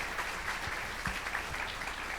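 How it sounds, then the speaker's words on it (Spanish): Audience members applaud a presenter after a talk on sustainable alternatives for organic waste, giving an even, sustained wash of many hands clapping at moderate distance with no voices over it. "Fuerte el aplauso para nuestra ponente."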